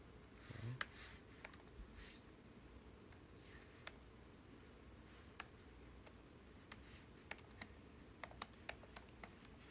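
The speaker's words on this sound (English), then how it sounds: "I'm not sure if this is a mechanical keyboard, but it feels like it. They're very clicky." Clicky keys on an EVGA SC15 laptop keyboard being typed on, a steady run of sharp, fairly quiet taps and clacks in irregular bursts over a faint background hiss, with no talking.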